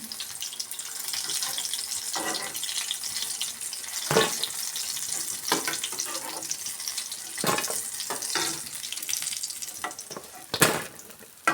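Ridge gourd bajji fry in hot oil, a steady bubbling sizzle with occasional clinks and scrapes of a utensil, close and without talk.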